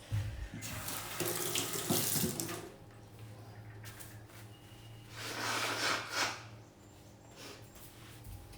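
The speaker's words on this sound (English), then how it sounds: "I'm gonna rinse my hands." Hands are rinsed under a running kitchen tap, with water gushing and splashing steadily into the sink, swelling twice as the hands move through the stream before the flow stops near the end.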